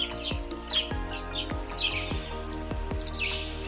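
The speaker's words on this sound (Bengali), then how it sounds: "চারিপাশে পাখিদের সুন্দর আওয়াজ।" Small birds chirp in short, scattered tweets in the morning at a riverside in North Sikkim, over a steady background with low rhythmic thumps.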